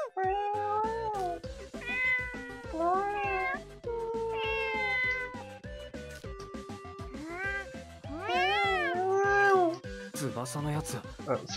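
A cat in the video game Tokyo Mirage Sessions meows over and over, a string of drawn-out, rising and falling meows with short gaps, loud and close, filling the whole stretch.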